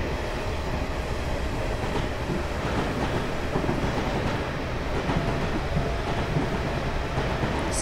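A Class 444 EMU train on the Portsmouth Direct Line in Train Simulator 2015 runs steadily, with a loud continuous rumble and rail noise from start to finish and no one talking.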